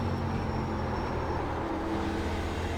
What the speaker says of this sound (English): Not only did it ruin my speed, but the 4-tire slide probably ruined my tires as well.